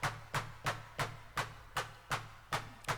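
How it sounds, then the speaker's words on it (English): Clap from an Elektron Analog Rytm drum machine with a resonant filter moved by an envelope, repeating as eight sharp, evenly spaced hits about every third of a second, quiet and alone. "So that's the sound of your clap"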